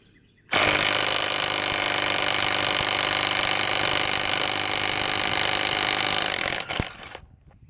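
A SnapFresh cordless impact driver removing a truck lug nut torqued to 140 foot-pounds, with a loud, continuous hammering whir at close range for about six seconds before it winds down and stops.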